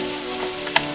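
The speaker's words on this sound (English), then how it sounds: "once your tray is hot enough, dump in your onions and sweat them off" Onions sizzling as they sweat in a hot tray coated with olive oil, a brief steady hiss with a faint hum underneath and one sharp crackle near the end.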